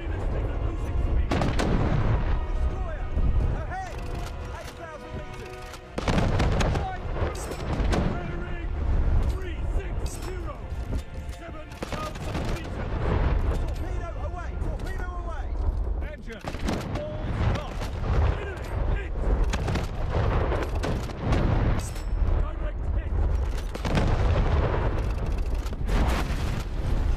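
Naval gunfire in War Thunder Mobile: repeated heavy booms of ship cannons firing and shells striking, dense and loud across the whole stretch, with voices speaking over the battle.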